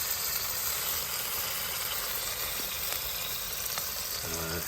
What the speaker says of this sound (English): It's loud sizzling